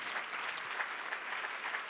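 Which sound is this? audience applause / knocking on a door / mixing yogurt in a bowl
audience applause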